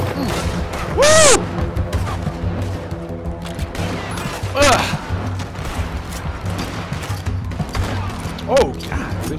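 Gunfire in the video game Red Dead Redemption 2: a few sharp, loud shots ring out at separate moments amid ongoing game sounds and talking.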